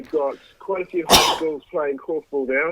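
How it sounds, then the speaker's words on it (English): A single sharp sneeze bursts out loudly in the middle of a podcast-style conversation about korfball, briefly interrupting steady speech from nearby talkers. "I'm going to sneeze."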